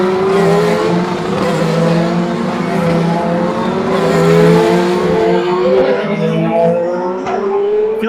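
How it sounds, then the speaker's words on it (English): IndyCar race cars scream past at speed, very loud and close. Their engine pitch rises and falls in layered whines as they go by, with a dense roar underneath. "the cars were so loud that it really messed up the audio"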